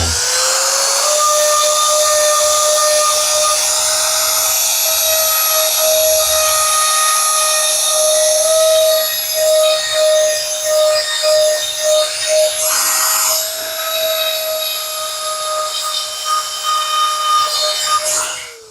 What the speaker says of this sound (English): Now to use the Dremel and the stone to get that fine